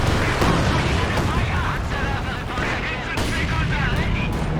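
Rocket artillery and battle explosions from a Werfer launcher in Company of Heroes 2, a dense continuous barrage of booms and bursts with repeated sharp blasts, loud throughout, with a commentator talking over it.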